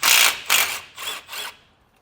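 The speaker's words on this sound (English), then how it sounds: "we'll remove that bolt with a 13 millimeter socket" A ratchet with a 13 mm socket turns a bolt on a brake line bracket during an air helper spring install: four quick ratcheting bursts, close and crisp, with short gaps and the last ones softer.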